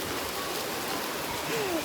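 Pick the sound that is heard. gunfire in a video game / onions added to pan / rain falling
rain falling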